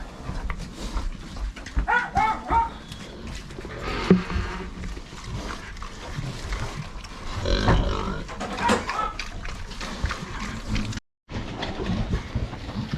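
Several pigs grunt and squeal close by at feeding time on extruded feed, over a busy, scuffling background, the noise rising and falling in bursts with one brief drop to silence.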